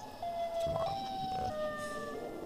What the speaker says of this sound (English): Siren Head, shut up